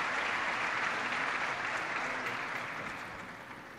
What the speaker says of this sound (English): Let's give a round of applause to him.